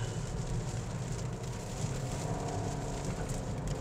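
Steady rain patters on a 2024 Toyota Vios XLE's body, a dense even hiss with a low rumble underneath, continuous throughout with no voices.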